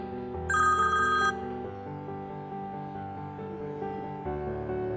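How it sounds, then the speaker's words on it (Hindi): An incoming-call phone ringtone, bright tonal beeping for under a second near the start over a sustained musical backing that carries on to the end. "ये तो भाईजान का फोन आ गया।"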